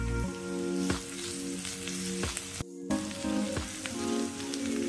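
Onions and grated ginger fry in a pan, giving a continuous, dense sizzle with small crackles and occasional stirring clicks, loud and close, with a brief drop near the middle.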